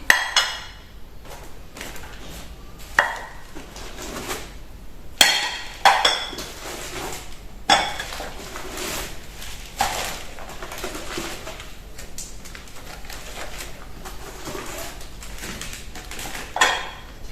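Broken plates being unpacked from a box: scattered ceramic clinks and chinks with rustling handling noise, a few sharper knocks standing out now and then, close and moderately loud.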